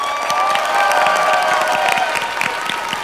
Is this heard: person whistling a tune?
no